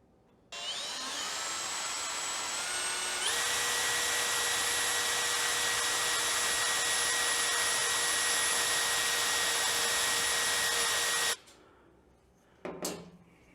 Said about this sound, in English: I vacuum pretty much after every time I drill